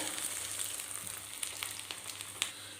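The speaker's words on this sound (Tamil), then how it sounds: "எண்ணெய் சூடாயிடுது எண்ணெயில் போட்டுக்கிறேன்" Breadcrumb-coated fish cutlets fry in hot oil, with a soft, steady sizzle and scattered sharp pops and crackles, fairly quiet and close.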